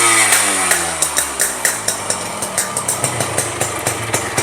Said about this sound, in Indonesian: Knalpotnya renyah banget